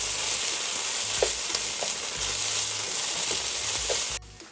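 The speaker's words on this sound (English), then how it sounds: "Add 2 tablespoons of ginger garlic paste. And saute it well." Ginger garlic paste sauteing in a pan for chicken tikka masala, a steady close hissing sizzle with occasional light clinks of a stirring utensil, no talking, cutting off abruptly near the end.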